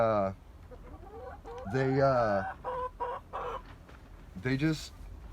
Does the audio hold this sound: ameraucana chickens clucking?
yes